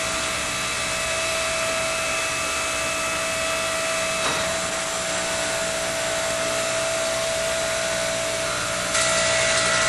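A Coats tire changer turns a tire on its rim with a steady, loud motor hum and whine that runs unbroken throughout, with one brief click near the middle.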